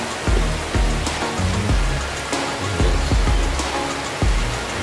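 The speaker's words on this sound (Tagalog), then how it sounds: "maulan na umaga" Steady rain falls on a wet morning in Dinahican, Infanta, a dense, even hiss broken by loud, irregular drips and knocks from water striking a nearby surface.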